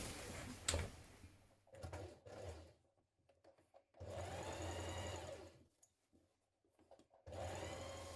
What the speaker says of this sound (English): from the right side, we're going to top stitch that down